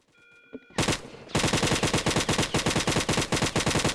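Roblox Brookhaven gunfire: after a single shot, a rapid sustained burst of automatic fire rattles out in an even, loud rhythm, close up and continuous to the end.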